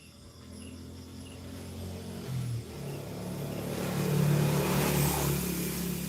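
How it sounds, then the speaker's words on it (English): Road traffic passing outdoors, a car's low engine rumble swelling and fading into the distance over a steady background of chirping crickets. "I think you can hear the traffic, though, when it goes by."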